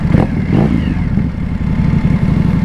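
Motorcycle exhaust while riding at night, a steady loud low rumble that holds near and constant, with a brief throttle surge near the start.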